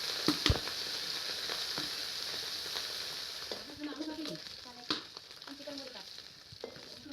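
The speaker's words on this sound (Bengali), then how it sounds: "এক এক করে আমি বাটা মাছগুলোকে ভালো করে এখানটা ভেজে নেবো" Bata fish sizzling in hot oil in a wok, a steady crackling hiss with a few sharp utensil clinks and brief faint voice sounds.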